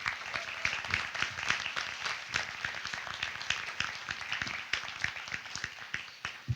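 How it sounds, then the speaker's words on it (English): A graduation awards night audience at Brattleboro Union High School claps for the class advisors, with a loose, moderately sized round of individual claps, some sharp and near, continuing steadily throughout. "How about a round of applause for those folks?"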